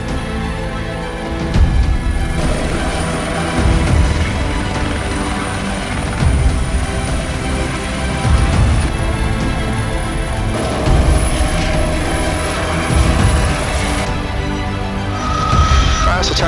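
A Bell 206 helicopter's engine and rotor drone loudly and continuously from inside the cabin during a simulated engine failure approach, with a pulsing rhythm and a high whine, while voices talk over it.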